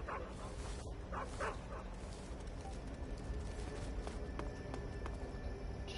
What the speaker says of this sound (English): Oh shit, the dog!